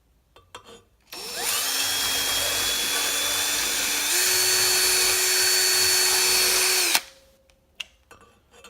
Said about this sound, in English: I just use a Harbor Freight style angle grinder with a cutoff wheel